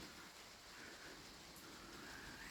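Steady rain patters on greenhouse glass under a blue sky, a faint, even hiss of countless drops with no voices over it.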